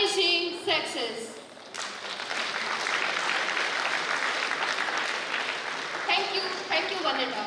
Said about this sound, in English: give a big applause to her amazing success